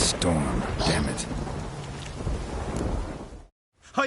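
A thunderstorm in The Witcher 3 on PS4: a heavy, steady rumble of thunder and rain runs for several seconds, then cuts out into a brief silence before the storm noise returns.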